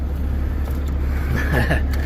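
A Nissan Altima coupe's 3.5 V6 idles steadily after a jump start from a jump box, a close, constant low hum with slight fluctuation and no talk.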